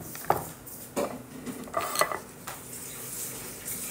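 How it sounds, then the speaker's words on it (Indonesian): A spoonful of sugar goes into a pan while cooking, with several light metallic clinks and scrapes of a spoon against cookware over a steady faint background hiss. "jadi sekarang aku mau menaruh gulanya"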